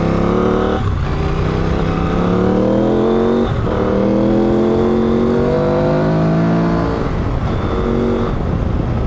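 KTM 790 Adventure R motorcycle with a new front-mounted intake accelerating hard through several gears, loud close engine roar climbing in pitch with brief dips at each shift.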